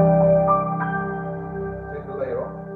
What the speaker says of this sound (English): he layers the DX7 with the concert grand